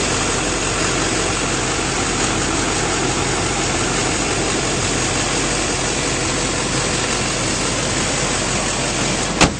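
A 2007 Chevrolet Silverado 3500 crew cab dually with the 6.6L diesel idles steadily under the hood, a loud, even rumble with no talk over it.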